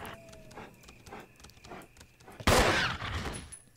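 Gunfire in the survival horror game Resident Evil HD Remaster, a few faint shots under quiet game ambience, then a sudden loud blast bursting in about two-thirds of the way through and ringing out.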